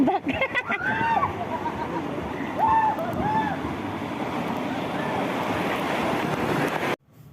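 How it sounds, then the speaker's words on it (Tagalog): Strong waves surge and churn at the Atlantis Aquaventure waterpark in Dubai, a steady roaring wash with wind buffeting the microphone and a few brief voices and calls over it. "This time, sobrang lakas talaga ng alon niya."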